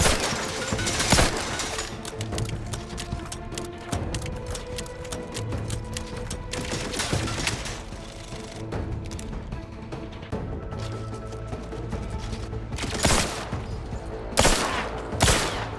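Automated turrets firing in The Outer Worlds 2 on PC, a dense, continuous fusillade of rapid gunshots with sharper bursts near the end, loud and close, mixed with game music and no talking.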